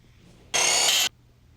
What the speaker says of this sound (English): use your 19mm deep socket on your heavy-duty impact to remove the outer tie rod end nut